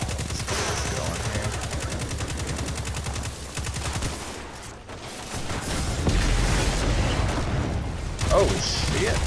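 Rapid hip-fired gunfire in Destiny 2 on Nessus against Fallen enemies, a dense steady stream of shots with mechanical clatter, loud and close, with game effects swelling toward the end.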